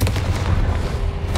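A Confringo fire spell explodes in the Hogwarts Legacy video game, a short loud booming blast with a deep low rumble, heard close and alone.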